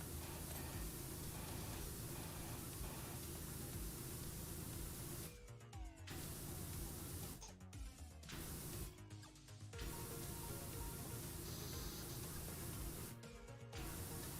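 Power washer spraying in a video game, a constant hiss of spray running throughout, broken by several brief gaps where it stops and restarts.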